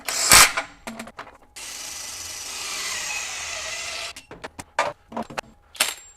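A FLEX 24V compact impact wrench with a 6 amp-hour stacked lithium battery hammers hard for about two and a half seconds to break a fastener free, followed by short clanks and handling knocks nearby.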